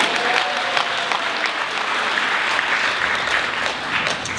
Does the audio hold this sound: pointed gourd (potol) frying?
no